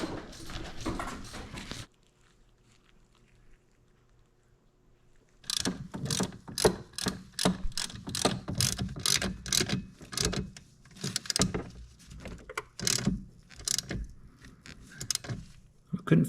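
Fork bolts on a 1988–2000 Honda Goldwing GL1500 are tightened with a ratchet, starting with clunks, a quiet pause, then a run of sharp, rhythmic clicking ratchet strokes up close.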